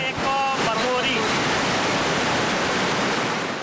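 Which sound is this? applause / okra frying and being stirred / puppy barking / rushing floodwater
rushing floodwater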